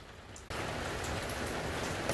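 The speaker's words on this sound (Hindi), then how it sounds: "10 घंटे से बारिश हो रही है सुबह के 6 बजे तक अभी तक" Heavy rain pours down steadily after a sudden start, a dense, even hiss of drops on surfaces continuing loud and unbroken with no voices.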